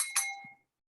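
A single bright notification bell ding rings out clearly, then a short metallic tail fades away within about half a second, with no voices around it.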